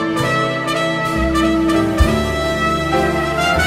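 Someone plays a trumpet fitted with a PATRICK mouthpiece, sounding a bright, sustained phrase of several held and shifting notes with a brief accent in the middle, close and full, with no talk.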